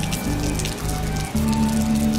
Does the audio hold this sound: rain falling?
yes